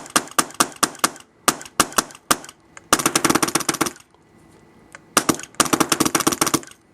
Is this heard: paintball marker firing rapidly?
yes